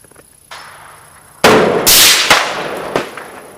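An AR rifle with an 18-inch barrel and 1-in-8 twist fires outdoors: sharp, loud reports, with a few separate blasts and cracks over a few seconds, each trailing off in a brief decay.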